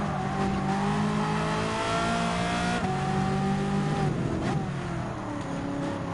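Race cars in the Gran Turismo 7 video game roar continuously with engines rising and falling through gear changes, a dense pack of cars heard close with occasional tire squeal.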